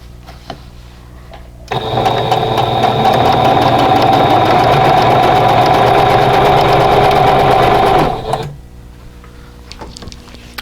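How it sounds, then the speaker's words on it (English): Sewing machine chain-piecing quilt block pieces for a stash-buster block, running in one loud, steady burst of about six seconds between quiet pauses. "I'll sew all of those together"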